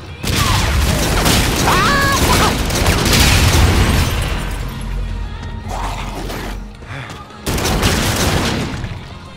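Call of Duty gunfire crackles and booms in dense, loud bursts, with rapid automatic fire and heavy thuds, a brief lull, then renewed shooting, while a player's voice is heard over it.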